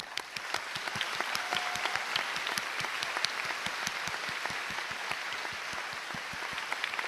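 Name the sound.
audience applause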